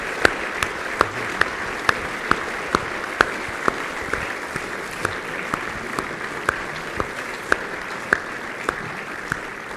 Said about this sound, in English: let's hear another round of applause for Andy and for Larissa